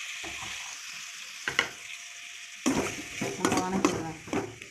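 Tomatoes sautéing in oil in a pan for a drumstick gravy, with a steady soft sizzle underneath and a few louder bursts of stirring and utensil scraping near the end.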